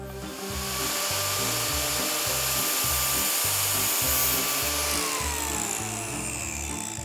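A cutoff wheel grinds through a custom motorcycle handlebar with a loud, continuous high whine and a rhythmic, pulsing low chatter throughout. The pitch shifts slightly near the end.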